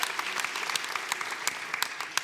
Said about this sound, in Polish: Więc wielkie, wielkie brawa za Twój występ